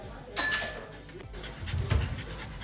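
A small abandoned dog pants in quick, soft breaths close by, with a brief light clink near the start.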